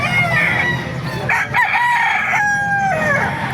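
A rooster crows loudly and close, two long drawn-out calls in a row, over a background of other chickens clucking, at a chicken market in Baliuag, Bulacan.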